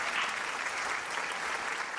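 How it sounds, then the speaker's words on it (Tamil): Audience applause greeting a career guidance speaker at an event, dense steady clapping from a crowd throughout, fairly soft and without talk. "ஒரு பலத்த கைத்தட்டலோட career guidance expert mister Ashwin அவர்களை நினைக்கிறேன்."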